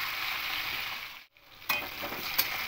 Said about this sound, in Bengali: দিয়ে সবজিগুলো হালকা একটু ভেজে দেব।